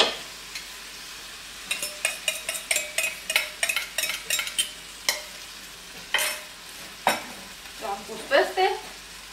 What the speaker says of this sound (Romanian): După care bat ouăle.